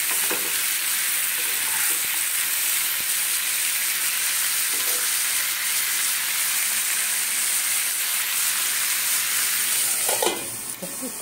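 Potatoes fry in a pan with a loud, steady, dense sizzle that stays close and constant throughout, with a brief stir or clatter near the end and no talking.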